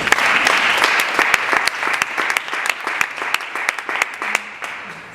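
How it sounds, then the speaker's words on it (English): An audience claps for a presenter at a project showcase in Madrid, a steady, loud patter of many hands with sharp individual claps standing out, which thins toward the end. "Big applause for her"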